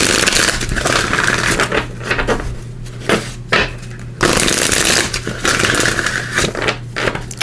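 Tarot cards shuffle close and loud in long riffling, rustling bursts, two runs split by a short gap, with soft taps between them.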